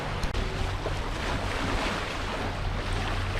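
Boat under engine power on a flat, calm sea, a steady low droning hum mixed with constant rushing water and wind buffeting the microphone, loud and close throughout.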